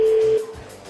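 A telephone ringback tone on an outgoing call sounds as a single steady electronic tone that cuts off partway, leaving quiet line noise before voicemail picks up.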